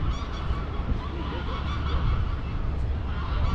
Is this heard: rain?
no